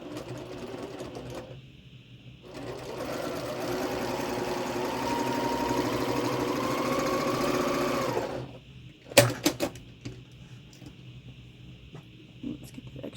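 A home sewing machine runs steadily for several seconds while stitching quilt pieces, a close whirring hum with a rising pitch, then stops, followed by a few sharp clicks and handling knocks.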